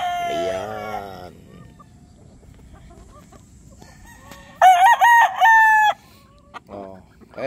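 A broodstag, a young gamefowl rooster, crows close by in one loud, strident call mid-clip, with softer clucks and bird sounds around it and someone talking at the start.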